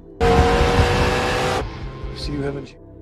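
A car tears away in an action film, a loud burst of engine roar and tire noise starting abruptly and holding for over a second before cutting off, followed by quieter engine sound with faint higher squeaks.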